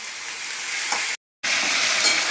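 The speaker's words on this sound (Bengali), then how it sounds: "লাউ শাকটা পাঁচফোড়ন, শুকনো লঙ্কা, কাঁচা লঙ্কা দিয়ে এই ভাজা ভাজা করছি" Bottle gourd leaves fry in hot oil with five-spice and dried and green chilies, giving a loud, steady, close sizzle that cuts out briefly and then resumes.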